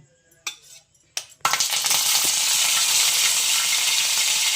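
Curry leaves, garlic and onion hit hot oil with a sudden loud sizzle after a few quiet clinks, then a steady dense frying hiss that fills the rest of the moment.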